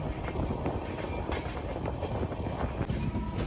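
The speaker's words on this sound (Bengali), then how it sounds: "দ্রুত গতির সাথে আমাদের ট্রেন অতিক্রম করছে বীরভূম জেলার নলহাটি জাংশন" An Amrit Bharat Express train runs at speed through Nalhati Junction in Birbhum district, a steady rumble of wheels and rattling carriages heard from on board, with wind rushing past and no talk.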